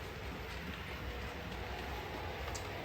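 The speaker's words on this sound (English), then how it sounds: "here comes the train." A small model train rumbles along its track with a faint, steady clatter, quiet and continuous, no voices.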